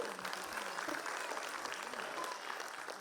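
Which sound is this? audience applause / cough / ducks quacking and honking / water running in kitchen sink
audience applause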